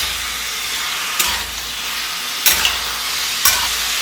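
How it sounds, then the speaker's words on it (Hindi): Basil chicken fries in a pan over a full gas flame with a steady loud hiss, broken by a few sharp spatula clacks as it is stirred. "अभी मैंने गैस को फुल कर दिया। इसको हिलाते रहना है आपने।"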